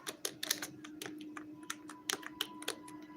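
Quick clicking keystrokes on a computer keyboard, irregular bursts of light taps over a faint steady hum, close and fairly quiet.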